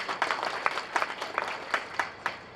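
A live audience breaks into steady applause in a hall during a motivational speech, many hands clapping at once in a dense, moderately distant patter with no voices over it.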